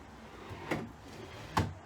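An IKEA desk drawer slides shut twice, each a short sharp knock with a brief rattle, close by, roughly a second apart against a quiet room.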